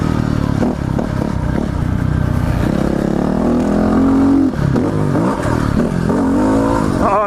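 A Yamaha WR250R dual-sport motorcycle rides a motocross track, its engine droning and revving steadily up and down close by, with loud wind rush and some clatter throughout.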